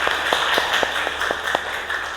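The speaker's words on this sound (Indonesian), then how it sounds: "Iya, beri tepuk tangan untuk Bunga" Students in a classroom clap for a classmate, a sparse, evenly spaced run of moderate claps over a steady room hiss.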